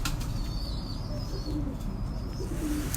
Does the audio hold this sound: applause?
no